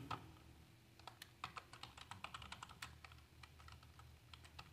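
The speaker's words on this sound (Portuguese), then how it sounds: "tenho que digitar o nome do autor aqui" Someone types on a computer keyboard, a quiet run of irregular key clicks at close range over a faint background hum.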